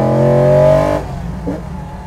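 A 347 cubic inch V8 muscle car engine with eight throttle bodies and over 600 horsepower revs loudly and close by, a deep harmonic roar held for about a second before it drops back to a rumbling idle.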